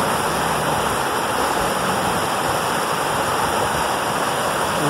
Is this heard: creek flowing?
yes